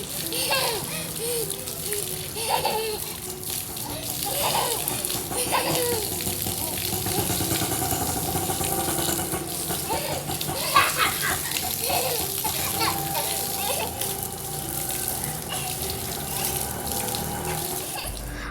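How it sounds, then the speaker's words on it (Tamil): Steady water streaming from a hose pipe onto a child during outdoor bath play on a hot day, continuous splashing throughout with faint children's voices now and then. "ஓஸ் பைப் வச்சு தண்ணி ஊற்றி விளையாண்டுக்கிட்டு இருந்தேன்"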